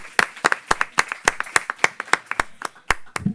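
Audience clapping at a book presentation on narco-narrative at a New York book fair, a run of sharp, fairly close claps with steady rhythm, thinning into a few last scattered claps.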